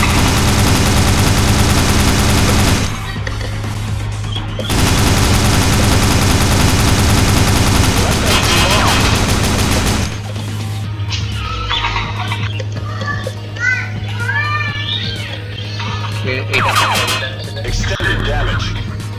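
Rapid gunfire from a sniper weapon in a warplane combat video game, with dense bursts of shots and game effects, then sparser sounds and chirpy tones later on.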